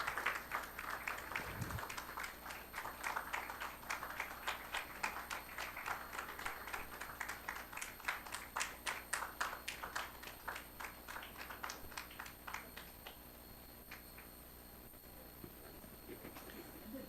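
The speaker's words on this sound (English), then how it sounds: "Ladies and gentlemen, big round of applause." Audience applause at a Carnatic vocal concert during an award presentation, a fairly quiet, dense patter of many hands that fades toward the end, with a low background hum.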